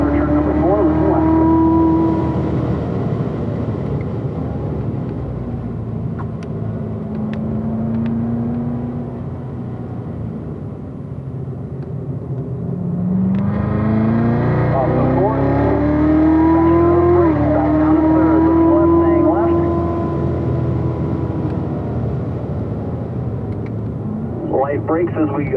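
A car on a race track changes pitch as it brakes and then accelerates through the corners, its engine tone rising and falling steadily with no talk.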